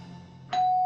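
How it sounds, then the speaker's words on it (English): A doorbell rings out a clear two-tone ding-dong in a comedic radio play set in London, the second chime loud and ringing on with no talk over it. "Ding dong, I'm home."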